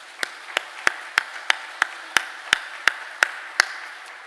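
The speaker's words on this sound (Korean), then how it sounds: "하나님께 감사의 박수 올려드리겠습니다." A church congregation claps together in thanks to God during a Sunday morning service, about a dozen sharp, evenly spaced claps in a steady rhythm, fairly close and with no voices.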